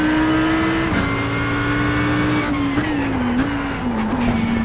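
Race cars in iRacing at Laguna Seca, including a Lamborghini and an Audi GT3, brake into a corner. A loud, steady engine drone falls in pitch as they slow and then swells again, with faint tire squeal over the top.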